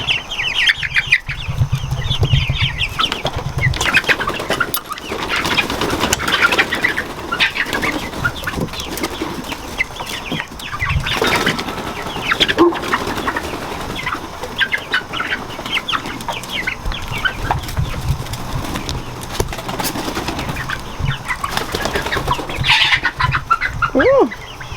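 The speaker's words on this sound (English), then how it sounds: "Ooh, you chickies aren't even giving me a chance to put your little ladder up." A group of backyard chickens clucking and squawking as they pour out of their coop in the morning, busy close calls with some wing flapping, while someone talks over them.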